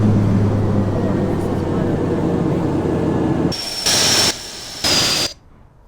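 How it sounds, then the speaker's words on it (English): A jet engine roars steadily as a plane lands in the Infinite Flight simulator game, then the rumble cuts into short bursts of louder hissing noise with a thin whine before dropping away. "And it has physics like an F-22, so this is me landing."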